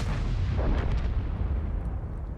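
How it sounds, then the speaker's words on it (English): Tank cannon fire from HE shells in World of Tanks: a dense, rumbling boom with a sharp crack near the start, a low roar that holds throughout, and no voices. "looks like maybe the 704 is firing HE"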